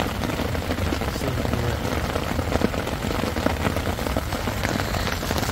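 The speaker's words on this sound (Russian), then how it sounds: "На улице дождик с грозой." Steady, dense rain pattering on surfaces during a thunderstorm, a continuous hiss with scattered drops, fairly loud and close, no voices.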